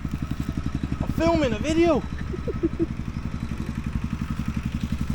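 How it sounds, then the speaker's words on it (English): An old tractor rumbles past in rural Thailand, its rhythmic low engine thud steady and close throughout while a person briefly speaks over it. "I was rudely interrupted by the old tractor man there"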